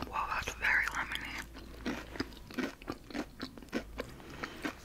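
Edible crystal candy being bitten and chewed close to the microphone, with quiet crisp crunches repeating at an irregular pace, along with soft whispering.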